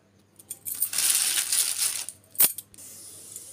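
Cumin seeds hit hot oil in a pan, setting off a close crackling sizzle that swells, fades, then briefly flares again with a sharp burst.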